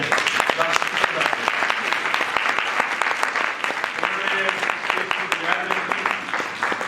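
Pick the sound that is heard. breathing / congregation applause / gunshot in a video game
congregation applause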